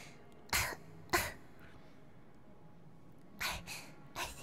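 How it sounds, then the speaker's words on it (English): Soft, breathy coughs come close up and quiet, two short ones, then a pause, then a few more, with no talking. "soft coughs? Soft coughs."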